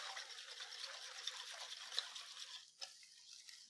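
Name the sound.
whisking casserole mixture together in a bowl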